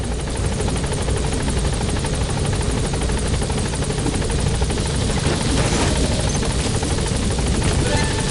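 Helicopter in the Metal Gear Solid 5 video game, a loud, steady rotor thrum with rapid blade chopping that holds throughout at close range.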